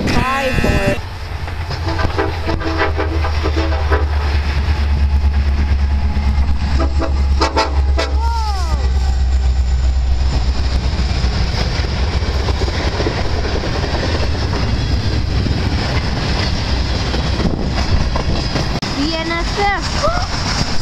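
A long CN freight train rumbles past close by with wheels clattering steadily, and a P5 air horn blares in several loud blasts early on and sounds again faintly later, with people talking over the passing cars.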